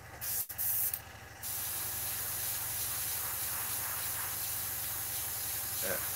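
An airbrush sprays paint in a steady close hiss that starts after a brief sputter and runs on continuously, with a voice briefly audible near the start.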